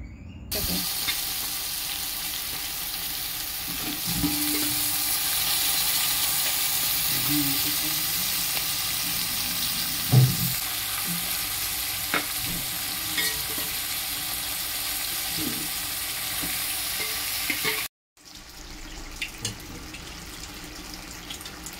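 Chicken pieces for biryani sizzle and fry in a pot, a continuous crackling hiss punctuated by occasional scraping and clinking of a stirring spoon, with a short break near the end.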